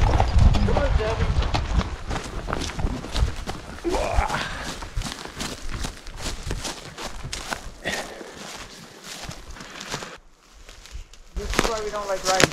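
Several horses walk along a trail during a cattle roundup, their hooves clip-clopping in an irregular rhythm at close range while people talk over them.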